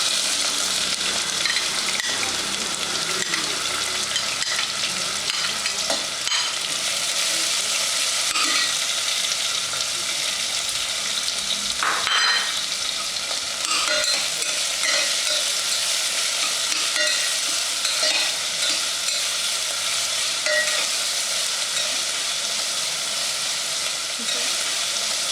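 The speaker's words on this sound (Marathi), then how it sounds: "आता कांदा परतत आलेला आहे" Chopped onion with peanuts sizzles steadily in a hot pan for khichadi, a dense continuous frying hiss broken by a few louder scraping stirs, close and alone with no talk.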